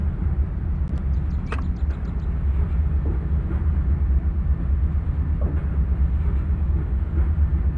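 A train with throttle raised to 75% picks up speed to about 45 mph on a flat stretch, giving a steady, heavy low rumble throughout with a few faint high squeals and clicks near the start.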